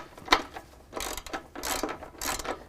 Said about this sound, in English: We can tighten up our last two flange nuts.